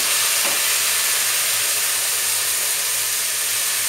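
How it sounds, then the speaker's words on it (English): Marinated prawns hit a pan of golden-brown fried onions, giving a steady, loud, broad sizzle and hiss that holds evenly throughout with no voices. "This is when we'll add our marinated prawns here."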